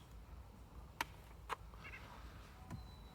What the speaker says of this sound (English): Again, it's my neighbor's cat.